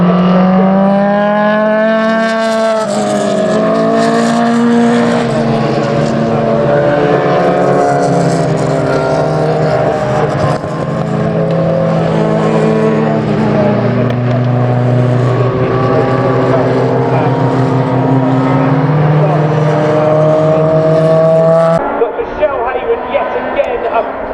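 Racing cars at the Cadwell Park circuit during a round of a club racing championship, engines droning and shifting pitch steadily throughout under continuous race commentary.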